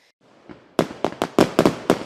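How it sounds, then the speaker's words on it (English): New Year's Eve fireworks in Phoenix crack and bang in a rapid irregular volley of sharp loud reports, with fainter pops and fizzing at the start and no talk. "Fireworks and New Year's Eve typically go hand in hand."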